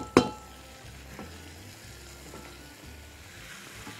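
Lamb liver fries in a pan with caramelized onion for a potato dish, a steady soft sizzle running throughout after a sharp clatter at the start, plus occasional faint stirring scrapes.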